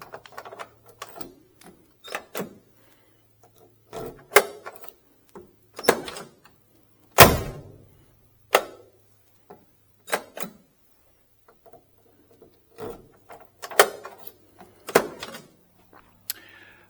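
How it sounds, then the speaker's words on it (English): Door locks on a 1965 Pontiac GTO snap shut in a series of crisp, solid clicks and clunks spread over several seconds, close and distinct against near silence, with one heavier thump midway. "they just snap shut so nice"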